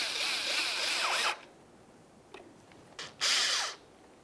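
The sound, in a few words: tightening a Phillips head screw on a Ford Fusion bumper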